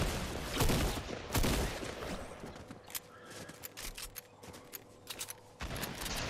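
Gunfire in the video game Fortnite: a dense, loud volley at the start gives way to scattered single shots and short bursts, some sharp and close, others fainter.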